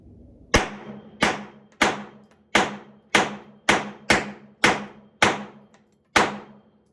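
Nine sharp gunshots from a worked-over Smith & Wesson M&P pistol with an Apex trigger and lighter slide spring, fired at an uneven pace, each crack decaying quickly before the next.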